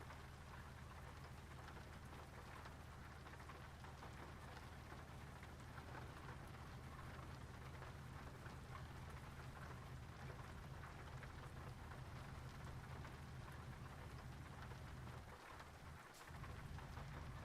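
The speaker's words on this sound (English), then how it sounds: "Definitely raining." Rain beats steadily in Euro Truck Simulator 2 on a quiet evening in Eastern Europe, a dense, constant hiss over a low engine drone, with a brief low rumble of thunder near the end.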